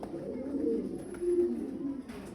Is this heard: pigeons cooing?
yes